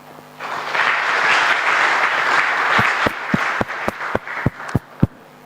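Students in a hall at a polytechnic launch ceremony clap for themselves, building into a dense wash of applause that thins out into a series of distinct, sharp individual claps near the end.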